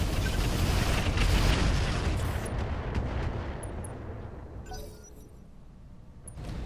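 Mech weapons fire in the BattleTech Roguetech video game, a heavy rumbling barrage of booming blasts that slowly fades, with a few sharp clicks near the end and no talk.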